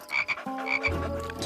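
A cartoon frog croaks in a few quick, throaty bursts, close and fairly loud, with a low buzzing tone joining partway through.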